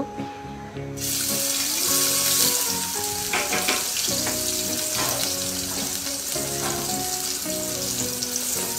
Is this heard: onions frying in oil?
yes